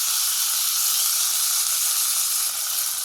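Tomatoes hit hot oil already crackling with onions, green chillies and curry leaves, giving a steady, loud, close sizzle and hiss that holds evenly throughout with no voices.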